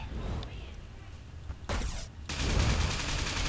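A flak cannon firing in the space-combat video game Everspace, rapid bursts of gunfire that build into a dense, continuous barrage over a rumbling background.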